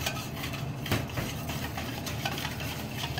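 Choux pastry dough stirred steadily in a bowl with a spoon, a continuous close scraping and slapping texture with small irregular knocks, no voices.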